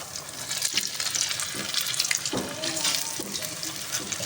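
Baby corn deep frying in hot oil, a dense, steady hiss and bubbling crackle throughout, close and fairly loud with small stirring bumps.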